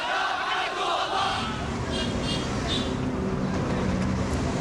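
A large crowd chants continuously at a rally in Iraq during the 2003 war, the massed voices blending into a steady, dense roar throughout.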